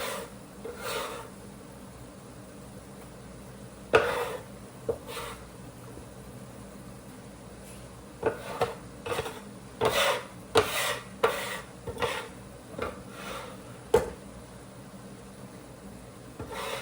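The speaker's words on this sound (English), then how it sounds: "I've got a little dough scraper that I actually like to use for this kind of thing." A small dough scraper scrapes and scoops through a pan of Bolognese sauce, giving irregular rasping strokes and soft scuffs in a quiet kitchen.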